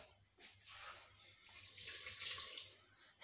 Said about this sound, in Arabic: مازال غادي نزيد الماء، تقريبا غادي نزيد واحد 500 مليلتر وحده اخرى